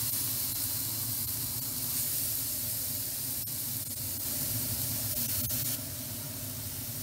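Lamb backstrap sizzling on a hot char grill, a steady dense hiss that runs unbroken and fairly loud for the whole stretch, with no voices over it.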